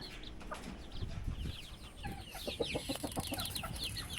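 Hens cluck near their laying nest in a backyard: a busy, close stream of overlapping clucks and short calls that runs steadily throughout, with no voices.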